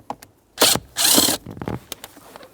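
A ratchet wrench loosens a 10mm mounting bolt on a 2006-2011 Honda Civic AC compressor, with close, loud bursts of rapid clicking ratcheting, two longer runs separated by short pauses and a few lighter clicks after.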